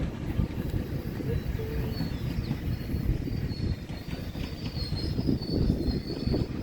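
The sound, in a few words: commuter train going by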